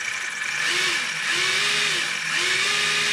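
A small electric motor in an assembled Super Avante model car whirs steadily at close range, with rising and falling pitch sweeps as it revs up and down, alone without talk.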